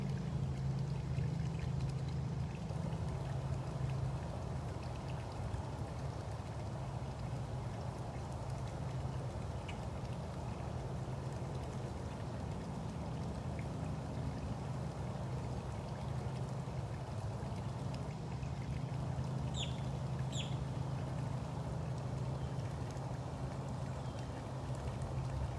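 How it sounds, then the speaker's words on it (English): Outdoor morning ambience at a big cat rescue: a steady wash of flowing water runs throughout, with a few faint, brief bird calls breaking through near the end. "So peaceful with the sound of the water and all the birds."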